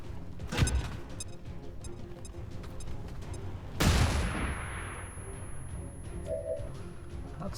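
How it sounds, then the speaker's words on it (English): A flashbang grenade in the game Long War 2 goes off with a sharp, loud bang followed by a ringing hiss that decays, after an earlier gunshot-like crack, with game ambience around it. "Well, in that case I will Heads down! flashbang the codex."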